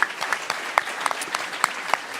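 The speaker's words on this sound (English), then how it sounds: "Give yourself a round of applause." Live audience at a political history show applauding, a short burst of scattered clapping from a modest crowd, fairly close.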